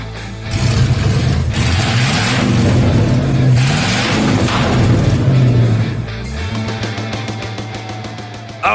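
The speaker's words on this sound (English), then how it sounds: "Those car sounds are courtesy of Devin and his LS-swapped Volvo 240" A Volvo 240 swapped with an LS V8 revs loudly and close, its deep roar swelling and falling through several bursts before settling to a rumbling, pulsing idle.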